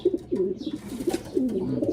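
Soft, throaty cooing from a young pigeon repeats in low rolling phrases, close by and steady, with no talking.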